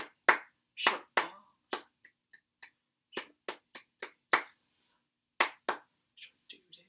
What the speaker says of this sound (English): let's clap the rhythm together